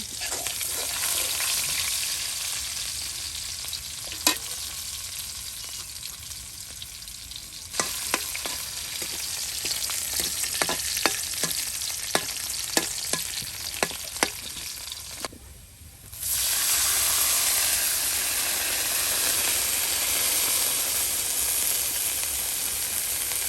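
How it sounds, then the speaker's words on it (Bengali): Chopped onions frying in oil for a village-style curry of a large five-kilo fish, a strong steady sizzle with repeated sharp clicks of a spatula against the pan, a brief dip, then full sizzling again. "এই যে নানি এখন পেঁয়াজগুলো কুচি করে দেখুন তেলের সাথে কিন্তু এই যে ভেজে নিচ্ছে"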